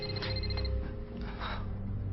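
A mobile phone rings indoors in a short burst of high electronic chirps and pulses. The ringing sits over a dense low background murmur.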